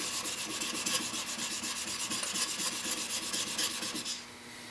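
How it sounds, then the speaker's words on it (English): A woodworking chisel held in a honing jig is rubbed back and forth on a sharpening stone, a steady close rasping stroke repeating rhythmically for about four seconds before stopping. "holding the heel of this jig down, and just going back and forth"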